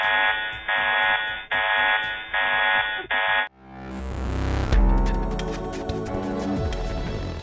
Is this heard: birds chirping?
no